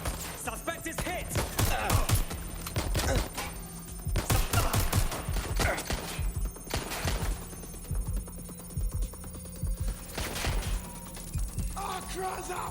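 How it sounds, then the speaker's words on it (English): Video game gunfire in Watch Dogs: Legion: repeated bursts of automatic shots and single cracks spread through a tense firefight, loud and close, with thuds and a ringing alarm-like tone in the background. "Shots fired! Shots fired!"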